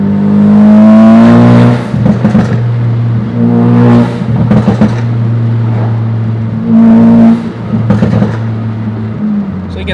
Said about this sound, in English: you get the sound of the blow-off valve plus some flutter